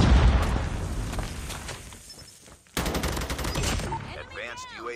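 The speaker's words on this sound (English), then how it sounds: "That's a grenade." A grenade explodes in a first-person shooter multiplayer match, part of a dense burst of gunfire and blasts that fades, then a second loud volley of rapid shots kicks in, close and harsh.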